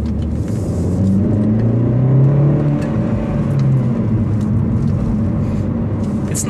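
A 2017 Opel Corsa OPC hatchback with a 207 hp engine thrums loudly close by, its engine note swelling and easing through a sustained rev with a steady mechanical rumble.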